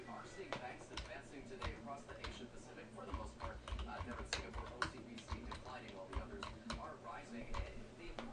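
Fast, steady clicking of a computer keyboard being typed on, quiet and close, with irregular keystroke bursts and faint talk in the background.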